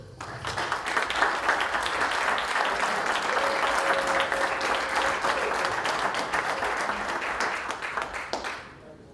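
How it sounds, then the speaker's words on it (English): An audience at the XBIZ 2015 conference applauds as Brian Shuster is introduced, sustained, even clapping filling the room from start to finish before tapering off in the final second. "please give him a round of applause, Brian Shuster"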